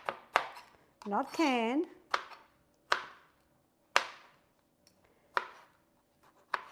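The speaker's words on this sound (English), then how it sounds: "And this is fresh tomatoes, and we're going to dice them." A knife dices fresh tomatoes on a cutting board for spaghetti and meatballs, with sharp, separate chops spaced about a second apart and a brief spoken phrase between them.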